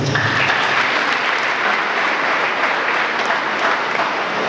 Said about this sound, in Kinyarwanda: biha amashyi